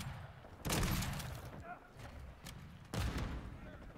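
Gunfire from an FSS Hurricane gun in a video game comes as two heavy bursts of rapid shots, about two seconds apart, over in-game background noise.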